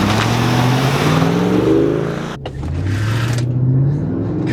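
Two Mercedes cars race without nitrous, a V8 AMG against a gutted lightweight V6 E320, their engines roaring loudly and steadily as they accelerate, with rising pitch sweeps and a brief dip at a gear change.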